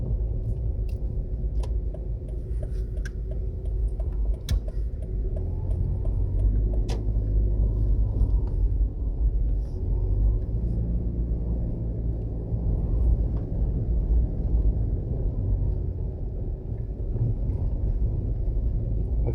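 A car drives along a main road through a Jamaican neighborhood, its engine and tire rumble a steady, loud low drone throughout with no talking.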